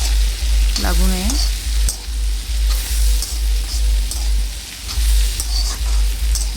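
Okra sabzi sizzles loudly in a hot pan while being stirred, bright crackling frying with regular scraping strokes of the spoon throughout, close and alone with no talk.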